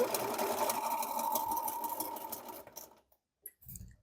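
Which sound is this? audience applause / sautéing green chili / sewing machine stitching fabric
sewing machine stitching fabric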